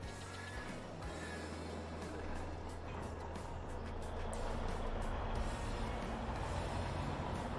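A Kenworth truck on a farm in Evergreen, Saskatchewan, its engine droning steadily at a low pitch, with faint beeping and rising mechanical noise as it builds slightly louder toward the end; no one speaks.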